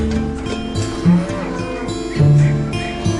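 A cow lets out a series of loud, close moos, two of them especially strong and drawn out.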